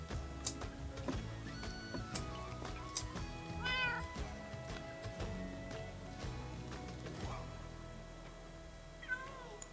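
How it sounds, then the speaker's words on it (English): A zombie cat in a video game meows several times in short, close, clear calls, alongside ticking game sounds and steady background music. "It's a zombie kitty, look."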